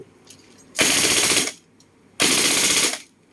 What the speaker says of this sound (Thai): ยิงยาวๆเลยนะครับ เดี๋ยวลองเทสยิงกับกระบอกนี้นะครับ